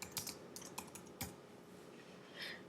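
A photo caption is typed on a computer keyboard, producing a sparse, irregular run of close key clicks with gaps between them and a softer cluster at the end.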